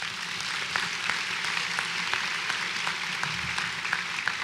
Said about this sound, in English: please join me in honoring his achievement with our applause